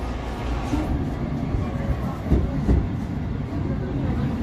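A Keihan Railway train runs with a steady, low rumble and a brief pair of rail thumps midway, heard from inside the carriage at moderate loudness.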